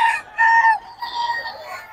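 A rooster at a chicken market in Bocaue, Bulacan gives a loud, close crow with a clear, ringing tone. A short cluck-like call follows, with no voices.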